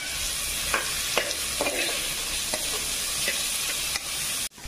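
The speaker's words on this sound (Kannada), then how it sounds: "ಈರುಳ್ಳಿ ಫ್ರೈ ಆಗ್ತಿದ್ದಂಗೆ" Two medium onions fry with green chilies in a pan, hissing in a continuous close sizzle as a spatula stirs and scrapes at intervals, ending in a brief sudden drop, with no one speaking.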